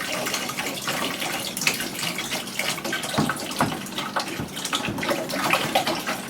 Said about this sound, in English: I got a feeling a lot of water is going to come out of here